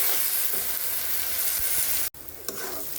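Dried fish (shutki) frying in a pan: a continuous bright sizzle with scraping stirs, then a brief cut to a slightly quieter sizzle with a few more stirring scrapes, and no voices.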